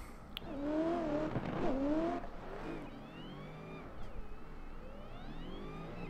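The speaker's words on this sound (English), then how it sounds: "when it's backwards, you just hear all exhaust on this 350Z" A Nissan 350Z in a racing game, its supercharged engine whining and exhaust revving through rising and falling gear pulls, loudest early then settling into a steadier drone.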